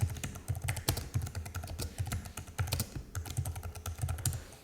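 Rapid, steady clatter of keys on a computer keyboard as a title is typed, close and fairly loud, with uneven bursts of keystrokes and no talking.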